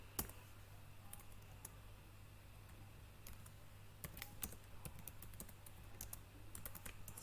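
Quiet computer keyboard typing, with short bursts of key clicks in irregular clusters against a steady low hum, no talking.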